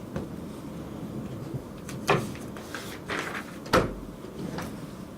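A door being opened or closed in a room, giving a few soft clunks and thumps at moderate distance over a low, steady background hum, with two sharper knocks standing out.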